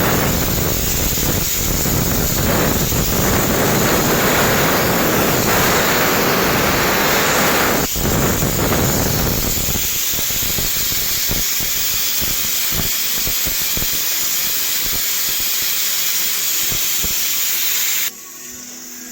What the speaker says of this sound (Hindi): मैंने कुकर को सीटी लगा लिया था, तो पीछे से आवाज़ आ रही है।